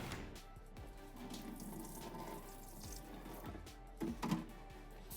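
A kitchen tap runs as noodles are rinsed in cold water, giving a soft, steady splashing stream with a few louder spatters near the end, fairly quiet and alone.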